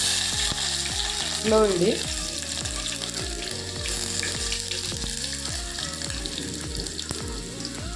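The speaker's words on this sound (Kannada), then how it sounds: "ಈಗ ಬೆಳ್ಳುಳ್ಳಿ ಹಾಕ್ತಾ ಇದ್ದೀನಿ ಒಗ್ಗರಣೆಗೆ" Garlic sizzles in hot oil for a tomato rasam tempering just after cumin, a steady close crackle with stirring clinks and scrapes, while a voice speaks briefly over it.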